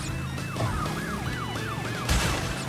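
A wailing police siren in Crash Bandicoot: Warped (N. Sane Trilogy) sweeps up and down in a steady repeating cycle over constant engine and road rumble, with a sudden thump near the end.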